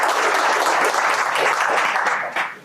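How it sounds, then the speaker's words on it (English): A room full of people claps loudly at a product unveiling for skills intelligence software. The dense, steady applause fades out near the end. "The applause should be after."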